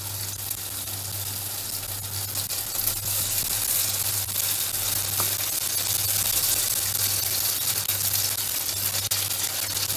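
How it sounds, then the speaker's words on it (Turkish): Cauliflower florets frying in hot oil in a pan, a loud, continuous close-up sizzle and crackle that holds steady throughout, with no talking. "şöyle bir çatalla alıp alıp karnabaharlarımı kızartacağım."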